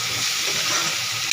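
Vegetables with turmeric in a pan give a loud, continuous hiss of frying while a spatula stirs them, with a small knock at the end.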